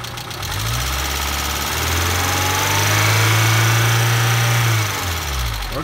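A Peugeot 205 engine held at about 3000-4000 rpm during an alternator test, a loud steady mechanical drone that swells slightly and then drops back to idle near the end, with no talking.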